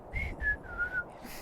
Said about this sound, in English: And she starts to whistle a little tune.